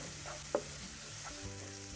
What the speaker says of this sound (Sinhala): මේ පේස්ට් එක එකතු කරගෙන තප්පර 30ක් විතර මේක කලවම් කරලා බෙද ගන්න ඕන